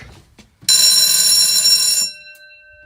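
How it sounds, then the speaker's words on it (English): A loud elevator alarm bell rings continuously for about a second and a half, harsh and close, then cuts off abruptly, leaving a fading tone and near silence. "This alarm is a lot louder."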